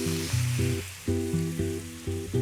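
Apple cider vinegar hits chilies in a hot pan on medium-high heat, giving a steady hissing sizzle that runs under a stepped, tonal musical tune for the whole short stretch.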